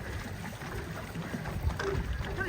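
Paddle-powered boats move across a lake at Huai Tueng Thao in Chiang Mai, Thailand, a soft watery churn and faint splashes under steady wind noise on the microphone, distant and low, with no voices.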